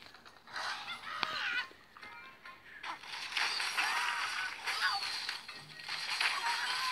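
Bird honking sounds from an Angry Birds game, loud goose-like honks and squawks repeating in bursts over a busy game soundtrack with crashing effects.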